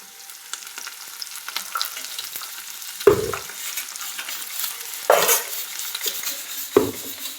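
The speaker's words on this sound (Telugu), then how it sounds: "ఉల్లిపాయలు కొంచెం బ్రౌన్గా వచ్చినాక వేయించుకొని" Onions and curry leaves fry in a pan with a constant close sizzle, broken by three louder scrapes and clanks of a spoon stirring against the metal, and no talking.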